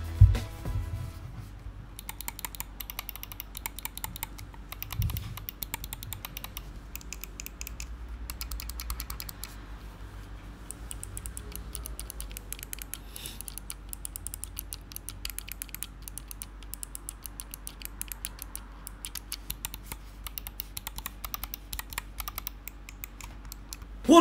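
Clicking from a SteelSeries Rival 600 gaming mouse, a long run of quick, light, dense clicks with only brief pauses, close up and alone with no voices.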